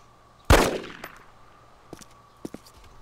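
A single sharp pistol shot cracks out loud and close in the DayZ survival game, its tail ringing off into a faint echo, followed by a few light clicks and taps spaced out over the next couple of seconds.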